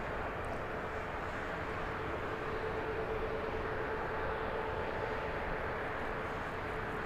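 A TUI airliner taxiing at Birmingham airport, a steady distant jet engine roar and rumble that holds evenly throughout with no talk over it.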